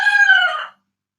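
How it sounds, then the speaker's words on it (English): A rooster in the countryside gives the loud, close tail of a single crow, cut off abruptly within a second and followed by silence. "oh man, these chickens."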